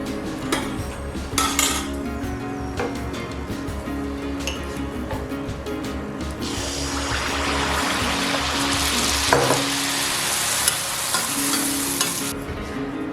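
Malpua frying in hot oil for a traditional Janmashtami sweet, a close, sustained sizzle mixed with metal spatula scrapes, pan clinks and stirring, the hiss swelling louder midway, with no talking.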